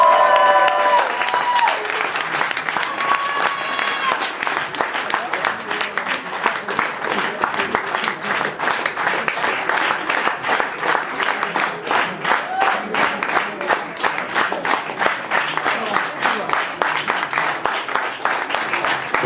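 Audience applause in the Théâtre Gérard Philipe, with crisp, dense clapping that starts full and then thins toward a scattered patter, and a few voices under it at the start.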